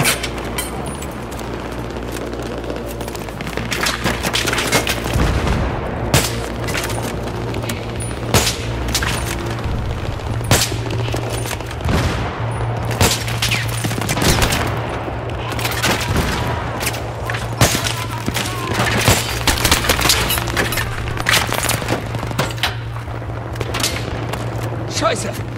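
Sustained gunfire in the Battlefield 3 video game, dense bursts of rifle and machine-gun shots with heavy booms over a low engine rumble, continuous and loud, with shouted voices mixed in.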